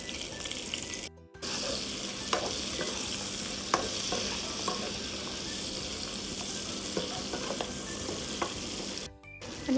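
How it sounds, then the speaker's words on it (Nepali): Spices, onion and garlic fry in a pan with a strong, continuous sizzle and occasional stirring scrapes, close and loud, broken by two short silent gaps. "त्यसलाई अलिकति भुटिन्छ र हामीले प्याज, अहिलेको लसुनहरू सब यसमा हाल्छौँ"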